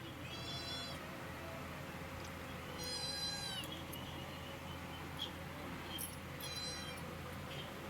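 A small kitten meows in three short, high cries spread apart, heard at a moderate distance over a steady outdoor hum.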